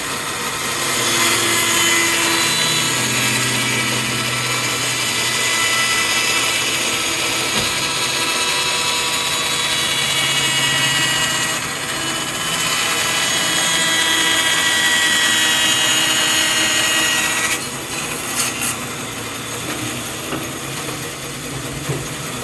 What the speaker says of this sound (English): I'm going to turn off my saw and hit the brake.